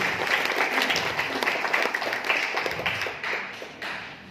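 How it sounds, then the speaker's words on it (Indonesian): Audience applause fills a hall at a success-story seminar, a steady dense clapping from many hands that holds for several seconds and thins slightly toward the end. "Ya, aplaus untuk kita semua Bapak Ibu."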